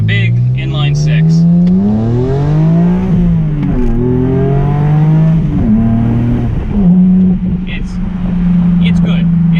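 A BMW Z4 M roadster's big inline-six revs hard and close, pitch climbing and dropping through repeated gear changes in a loud, continuous run.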